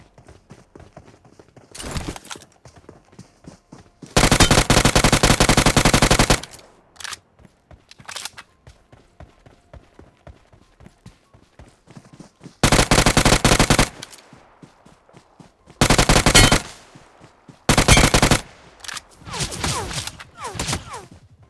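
Gunfire from a solo-versus-squad battle royale match in a hard lobby: repeated long bursts of automatic fire, loud and close, separated by quieter stretches of scattered single shots and game noise, with no talking.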